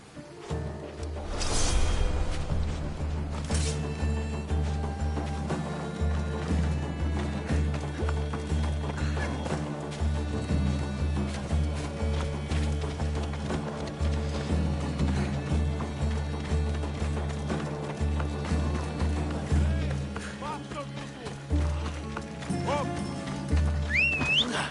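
Steady rhythmic hoofbeats of a galloping horse in the video game Assassin's Creed Odyssey, continuous and close, with a brief whinny early on and faint game ambience around it.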